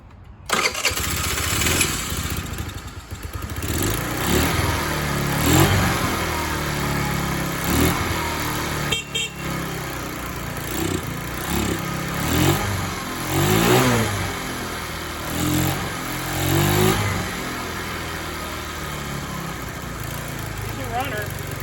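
TaoTao 50 Chinese scooter with a badly tuned carburetor and throttle linkage, its small engine sputtering and revving unevenly up close while it struggles to stay running, as a person talks over it.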